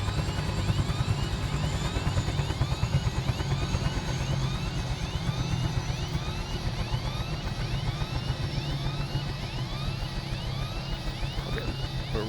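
A Huey helicopter in Microsoft Flight Simulator thumps steadily through an autorotation landing, its rotor beat continuous and fairly even at moderate loudness, with no talk over it.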